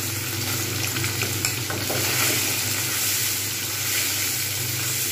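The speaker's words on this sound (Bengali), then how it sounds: "এবার আমি পনিরগুলো দিয়ে দেবো।" Paneer frying in hot white oil gives a steady, dense sizzle with faint stirring scrapes, continuous and close throughout with no voices.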